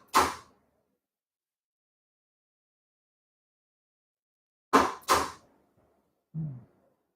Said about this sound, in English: I think these door poppers pull more than 10 amps.